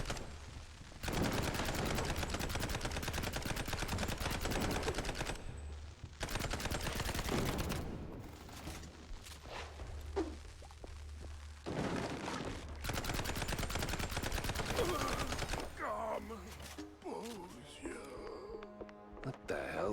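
Gunfire in the video game Mouse P.I. for Hire, with dense bursts of rapid shots in several long volleys and brief pauses between them, backed by game music and effects, while a player talks over parts of it.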